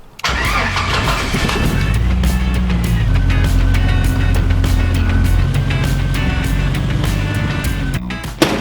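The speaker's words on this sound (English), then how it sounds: "First thing I need to do though is back PJ into the garage so we can get a better shot." A Jeep Wrangler YJ reversing into a garage, its engine holding a steady, low rumbling idle close by and loud from start to finish.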